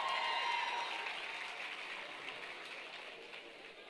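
An audience at a university lecture hall breaks into applause. The clapping starts full and fairly close, then slowly thins and fades over a few seconds.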